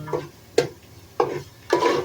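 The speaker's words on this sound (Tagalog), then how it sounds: "para halo-haluin natin siya para mahalo yung bawang" A spoon scrapes and stirs ground chicken with garlic in a pot, four soft knocking strokes spaced apart over a faint sizzle.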